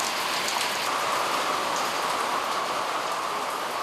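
Heavy summer rain shower in a seaside village, a dense, steady hiss of rain pouring down without a break, loud and close, with no voices.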